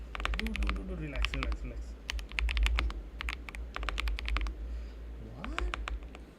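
Rapid bursts of typing on a computer keyboard during a live coding session, crisp clustered key clicks in quick runs with short pauses, while a person talks over them.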